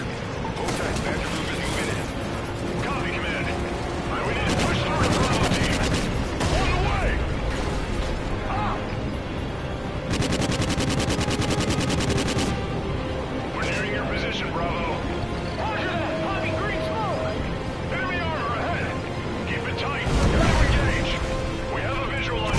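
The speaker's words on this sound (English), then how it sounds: "We're under heavy fire" Heavy gunfire in Call of Duty: Ghosts, with sharp bursts and crashing impacts that come in dense stretches, loud and close, mixed with shouted voices and radio talk all through.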